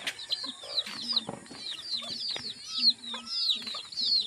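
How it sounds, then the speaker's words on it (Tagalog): Several hens cluck and chirp close by in short repeated calls, with a few higher chick peeps mixed in, fairly steady throughout. "Yung aking mga alagang manok, may mga sisiw sila"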